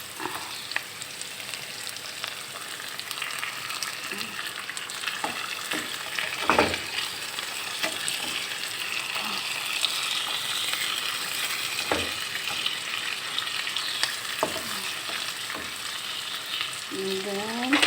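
Fish sizzling and frying in a pan, a steady close crackle of hot oil with occasional sharper pops and clinks of stirring, continuing alone without talk.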